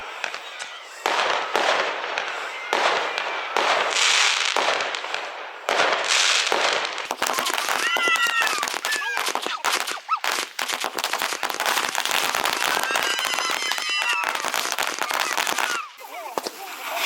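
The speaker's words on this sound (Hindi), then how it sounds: "पूरी रात लोग पटाखे छोड़ते रहे" Firecrackers and fireworks go off in dense, rapid strings of sharp bangs and crackles, with occasional whistling rockets, during a night of tribal Holi (Fagua) celebrations in Jharkhand. The noise is loud and nearly continuous, and voices are audible underneath.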